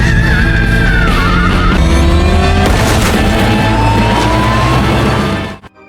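A car engine, earlier dead and now brought to life, roars loud and close across a dense, continuous mix of rumbling, sweeping tones that drops away abruptly at the end.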